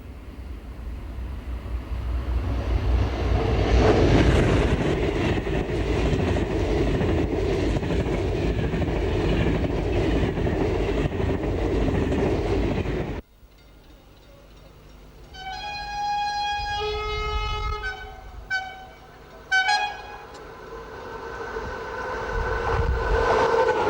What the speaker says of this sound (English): a southbound motor rail service thunders through